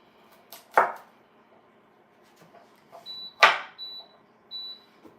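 A toaster oven gives its preheat signal, three short high electronic beeps evenly spaced, mixed with a couple of sharp kitchen knocks and thuds in a quiet room.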